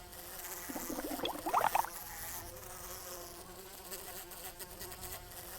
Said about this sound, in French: Oh, la mouche, elle me stresse.